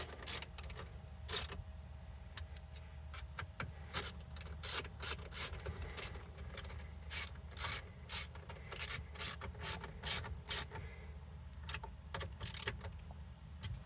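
A screwdriver tightening screws into a plastic radio bezel on a Honda Element, a quiet close series of rhythmic rasping and creaking turns, each short burst separated by brief pauses.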